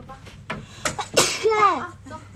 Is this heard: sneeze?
yes